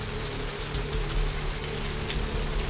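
Steady rain falls in the video game Vampire: The Masquerade - Bloodlines, a dense, even hiss of drops on surfaces with a low ambient hum beneath, continuous and unbroken with no voices.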